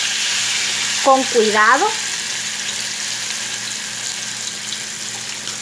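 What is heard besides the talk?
cassava (yuca) frying in oil in a pan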